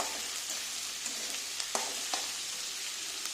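Chopped vegetables crackle and hiss in a hot frying pan while being turned, a continuous close sizzle with faint scraping ticks of the spoon.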